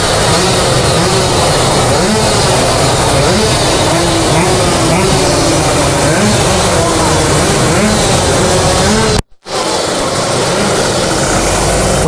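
A Tekno-tuned motorbike engine revs loud and close with a rough, continuous roar and shifting pitch, cutting out briefly near the end before resuming.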